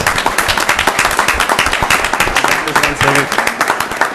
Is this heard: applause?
yes